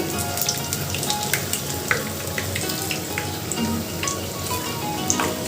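Eggplant fritters (beguni) frying in hot oil give a steady close sizzle and crackle throughout, with small pops and a few light scraping touches as the pieces are flipped, no speech.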